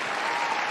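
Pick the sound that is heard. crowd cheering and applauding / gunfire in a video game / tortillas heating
crowd cheering and applauding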